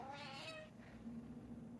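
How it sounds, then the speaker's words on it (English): A cat gives a single clear, drawn-out meow close by, followed by quiet room noise. "my cat gets extra noisy"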